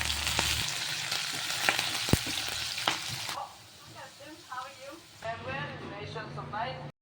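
Green chillies and curry leaves hitting hot oil in a pan for cauliflower fried rice, a loud crackling sizzle with sharp pops that then settles into a quieter, steady fry while someone talks over it.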